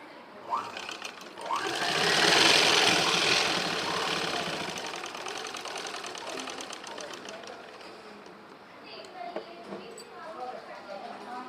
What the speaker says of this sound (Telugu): ఈ కాజా పట్టికి కూడా పైన స్టిచ్చింగ్ వేయాలి